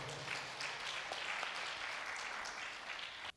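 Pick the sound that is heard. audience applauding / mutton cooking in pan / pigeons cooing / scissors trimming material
audience applauding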